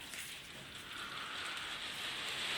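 Steady rain patters on a surface outdoors, a soft continuous hiss without distinct drops, moderately faint and unbroken, with no talk.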